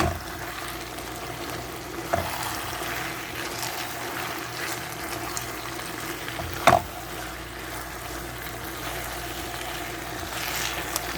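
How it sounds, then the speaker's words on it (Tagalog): Sesame seeds are stirred in a frying pan, giving a soft, steady sizzle and scraping, with a couple of sharper knocks from a utensil against the pan. "Stir for a few seconds."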